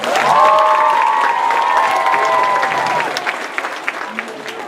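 Crowd applause for the judges at a Lego FIRST opening ceremony, loud, dense clapping that starts full and thins toward the end, with a voice briefly heard over it.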